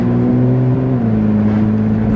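Nissan GT-R R35 fitted with an HKS Legamax exhaust, giving a loud, steady low drone with a sustained tonal hum that shifts pitch slightly partway through, with no talking over it.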